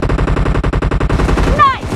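Shotgun gunfire in the PUBG Mobile game, loud and close: a rapid, even burst of many shots in quick succession, ending in a short rising electronic tone.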